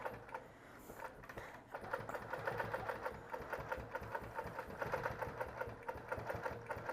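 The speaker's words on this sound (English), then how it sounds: "I'm making sure that I am stitching right in that ditch and a little bit off to it." Sewing machine stitching slowly in the ditch of a quilted seam, guided along a ruler, with a steady rapid mechanical patter that holds through the clip, close and fairly quiet.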